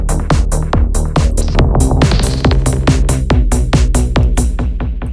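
Dub delay effect on the master mix in FL Studio, with a punchy beat whose hits smear into repeating echoes; loud, dense and continuous with no voices.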